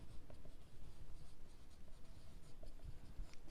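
Pen scratching steadily across paper during a class 10 algebra lesson on GST financial planning problems, a continuous close-up writing texture with small taps and strokes, no talk.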